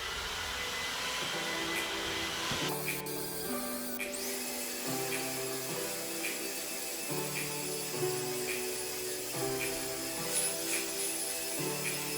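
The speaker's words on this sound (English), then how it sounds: "Now it's time to vacuum the rug." A vacuum cleaner runs on a rug, its steady motor drone shifting in pitch as the nozzle moves back and forth, loud and close with a sharp change early on.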